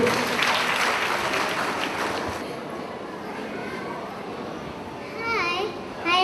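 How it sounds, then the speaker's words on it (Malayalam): An audience at a children's fest claps in a steady, dense burst that softens after a couple of seconds, leaving a busy room murmur with children's voices and a few high squeaks near the end. "എല്ലാവരും ഒന്ന് കൈയടിക്കൂ."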